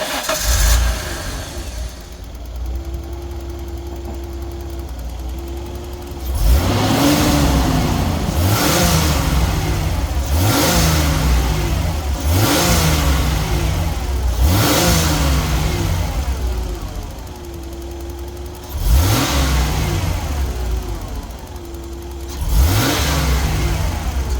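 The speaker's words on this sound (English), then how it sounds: "I will insert clip in a second for the Skyline running. Just engine, not driving" A Nissan Skyline R31 with an RB30 engine runs stationary with a steady, close idle, then is revved repeatedly in a series of rising and falling bursts, roughly every two to three seconds.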